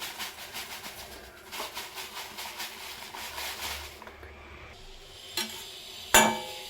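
Coconut powder being stirred and dry-roasted in a pan, with rhythmic scraping strokes and a soft sizzle up close, then a pause and a sharp clatter near the end.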